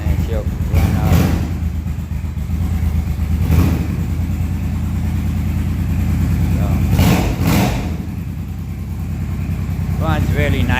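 A Honda Shadow VT500 motorcycle engine, cold and given a little choke, runs close with a throbbing low idle that swells in a few short revs, while someone talks over it.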